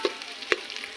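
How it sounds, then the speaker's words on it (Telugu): Curry leaves, mint and coriander drop into hot tempering oil for a country chicken curry cooked on a wood fire, giving a few quick crackling sizzle bursts, one sharper pop midway, over a soft background fizz. "కరివేపాకు పుదీనా కొత్తిమీర పోపులో వేస్తున్నా"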